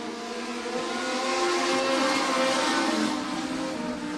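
Dirt track race cars roaring through turns three and four during a heat race at a speedway, a sustained engine drone that swells as the pack passes, then eases, heard from a distance.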